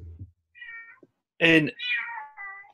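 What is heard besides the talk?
cat meowing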